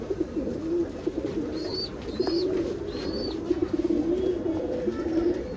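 Pigeons coo steadily in a racing pigeon loft, a low rolling murmur from several birds that runs throughout, with a few higher chirps and brief rustles above it.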